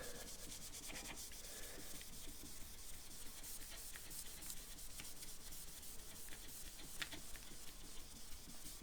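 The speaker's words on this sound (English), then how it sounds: "I'm just going to get a little bit on a nice soft cloth and give it a rub up." A soft cloth rubs polish onto a Stratocaster guitar body, giving a steady, close, quiet swishing friction that continues without pause.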